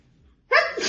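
A single sudden human sneeze bursts out of near silence, sharp and close, with a breathy tail trailing off.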